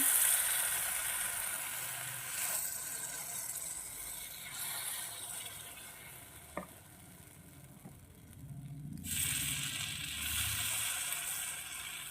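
Oil sizzles steadily in a pan as pitha fry, a faint, continuous crackling hiss with one small tap partway through and no talking.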